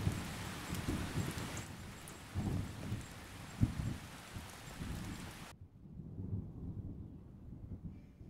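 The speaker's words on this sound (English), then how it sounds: "It's raining again, isn't it?" Rain falls steadily outdoors, with soft patters and occasional louder drops or thumps, a faint continuous hiss throughout at low level.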